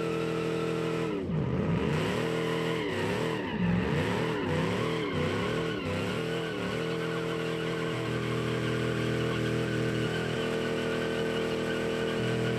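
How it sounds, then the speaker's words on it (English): A 1955 pickup truck's V8 engine, rated 219 horsepower, revs repeatedly in the BeamNG driving game, sweeping up and down in pitch in steady waves before settling into a sustained drone. "Oh, V8. 219 horsepower, 285 pound-feet of torque. A beast, basically."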